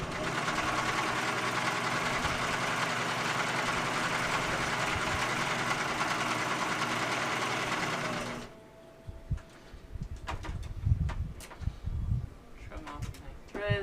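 Sewing machine running steadily as it straight-stitches two fabric pieces placed right sides together for a bingo bag, a loud continuous motor whir for about eight seconds that stops abruptly, followed by quieter handling clicks and rustles.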